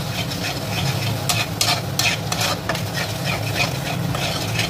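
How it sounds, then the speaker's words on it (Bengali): Tomato paste being stirred and fried in oil for chole, a continuous sizzle with scraping stirring strokes of a utensil against the pan, close and steady throughout. "টমেটো বাটাটা দেওয়ার পর আমি এটাকে খুব ভালোভাবে তেল একদম সেপারেট না হওয়া অবধি এইভাবে নেড়ে নেড়ে কষিয়ে নেব।"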